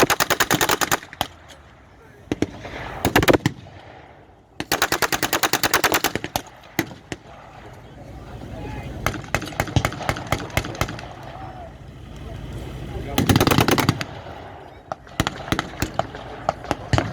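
Rapid bursts of machine gun fire at a WW2 battle re-enactment, loud and close, in repeated long rattling volleys separated by short pauses, with a rumbling tank engine underneath.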